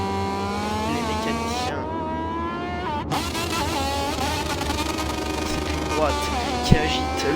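Moto2 racing motorcycles scream past the finish line during a race, high engine whine rising and falling over a continuous roar, under a commentator's talking.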